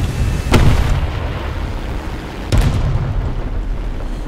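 Bombs dropped from a biplane striking a target in the War Thunder video game, two heavy booming explosions about two seconds apart, each followed by a rumbling tail over steady engine drone.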